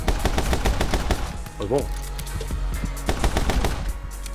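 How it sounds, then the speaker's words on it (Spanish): Rapid gunfire in the video game My Friend Pedro, dense bursts of close, loud shots firing almost continuously with a brief lull midway, while someone speaks briefly over it. "Pero tiros por todos lados."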